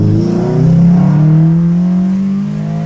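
A 2015 Honda Civic Si with aftermarket intake, downpipe and exhaust with silencer revs nearby, a deep, throaty exhaust note that swells, holds, and then eases off.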